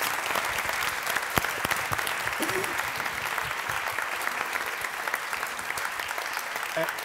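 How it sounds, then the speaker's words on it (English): A crowd at an author's talk on writing and language claps steadily throughout, dense continuous applause with faint voices mixed in. "go ahead, clap."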